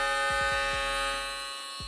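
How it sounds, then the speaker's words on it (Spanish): An MRD Vector electric shaver rated at 11,500 RPM is switched on and buzzes with a steady, loud high-pitched electric hum, with a few quick clicks near the start and no talk. "Voy a estar encendiendo la afeitadora."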